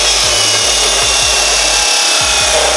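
A tool loudly cuts a wedge of metal for an exhaust install on an EG hatch, a steady harsh grinding hiss with repeated rubbing strokes.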